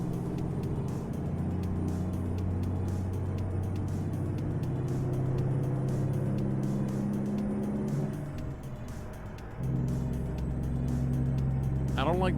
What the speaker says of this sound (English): I love the sound of the engine.